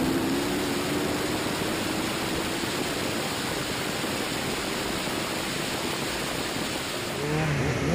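On board an Ariel Atom V8 track car running on a wet circuit with track day tyres and rear-wheel drive, a loud continuous roar of engine and wind rushes past, steady throughout with a slight rise in engine pitch.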